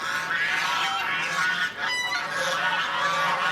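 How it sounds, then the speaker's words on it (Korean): A flock of geese honks continuously and loudly during an early mating season at Ppuri Park beside the Yudeungcheon urban stream, with overlapping calls and no pauses. "때이른 짝짓기에 정신없는 거위들."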